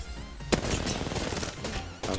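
A Mastiff shotgun fired in a video game: two heavy blasts, one early and one near the end, over a steady bed of busy game noise.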